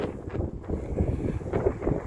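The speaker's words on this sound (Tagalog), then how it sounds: "So malakas yung hangin" Strong wind blows across a mall parking lot in fall, a steady broadband rush buffeting the microphone with gusty swells throughout, no voices.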